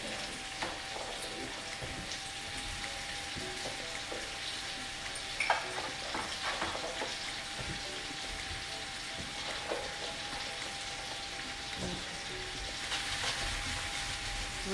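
Butter sizzles and crackles in a large sauté pan, a steady frying hiss with scattered pops and a few clinks, moderately loud and continuous with no voices.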